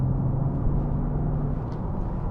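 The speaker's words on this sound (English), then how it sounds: "I'm pretty sure there's some sort of sports exhaust note going on here" A diesel BMW X5 xDrive40d with a sports exhaust gives a deep, steady engine drone and exhaust rumble, loud and constant throughout with no voices.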